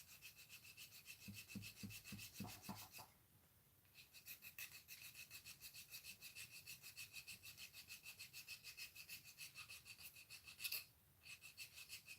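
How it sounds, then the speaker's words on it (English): Rhythmic rubbing strokes of sanding on a 1/48 scale Eduard Tempest model part, fast and close, with a couple of short pauses between bursts. "So let's sand a bit more."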